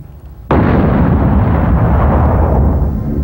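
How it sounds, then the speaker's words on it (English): A gasoline mortar set behind a window: a sudden loud blast erupts after a brief quiet moment, then a sustained roaring rumble of fire and debris continues at full volume. "For a fiery explosion, mortars with gasoline were set directly behind every window."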